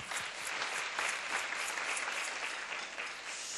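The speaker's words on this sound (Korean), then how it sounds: "박수 한번" A church congregation at a youth worship service applauds steadily for the whole stretch, a dense even wash of clapping heard from within the room with no talking.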